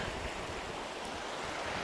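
Continuous broadband rush of a small river flowing in the Pecos Wilderness, steady and fairly faint, with no talking.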